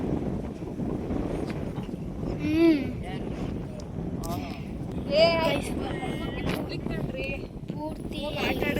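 Strong gusting wind by a lake where boating is going on buffets the microphone in a steady roar, while people talk loudly over it throughout.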